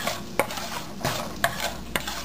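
Cumin and coriander seeds being stirred as they dry-roast in a pan, with four sharp spoon scrapes and taps at regular intervals over a soft, faint rustle.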